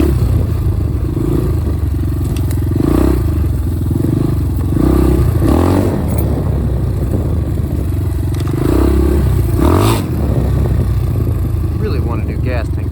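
A Yamaha Blaster ATV rides along a trail, its small engine droning loud and close with revving swells, rattles and scraping over rough ground throughout, and a voice talks briefly over it.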